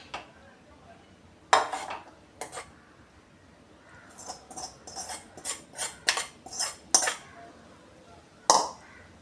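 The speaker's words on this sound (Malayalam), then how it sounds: "മുളക് പൊടിയെല്ലാം ഇട്ട് വാട്ടി വെച്ച മുട്ട ഇവിടെ വെച്ച് കൊടുക്കാം" Sautéed eggs coated in chili powder are set into egg biryani in a pressure cooker, giving a run of sharp metallic clinks and scrapes of a spoon against the pot, irregular and close, with quiet gaps between.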